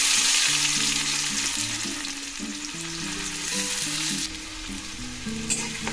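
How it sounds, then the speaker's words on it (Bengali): Chopped onions fry in hot oil while being stirred, a loud, dense, continuous sizzle with faint stirring scrapes, and a low melodic backing tune running underneath throughout. "ভালো করে পেঁয়াজগুলো নেড়ে নেব।"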